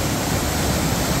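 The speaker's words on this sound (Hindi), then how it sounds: "पानी की जरा दमक सुनाई है" Rushing water from a waterfall at Betws-y-Coed in Wales roars as a dense, steady wash of noise, loud and continuous with no other sounds.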